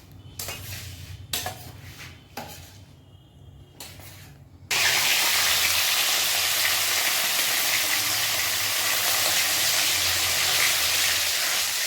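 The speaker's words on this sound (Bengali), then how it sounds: "মাছ ভাজা হচ্ছে" Rohu fish frying in oil in a pan for a home-cooked curry: a steady, loud, continuous sizzle that begins abruptly partway through, preceded by a few brief clinks and scrapes of utensils.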